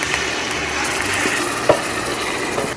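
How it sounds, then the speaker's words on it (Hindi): Onion, garlic and green chilli paste fry in hot oil, giving a steady, close sizzle with occasional stirring scrapes and one brief clack of a utensil against the pan. "तो अब आपने इसको भूनना है हल्का सा, प्याज और लहसुन और ये जो हरी मिर्च डाली इसको भूने थोड़ा सा"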